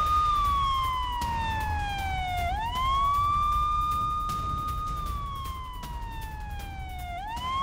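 An air raid siren wails, sweeping slowly up and down in pitch, loud and steady across the whole stretch, with a low rumble of background noise beneath it, during a rocket attack on Tel Aviv.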